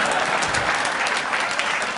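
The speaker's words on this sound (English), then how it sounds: "Let's give 3 of them a nice round of applause there." Audience applause at a live maths show: a full, even wash of many hands clapping at once, steady and loud throughout.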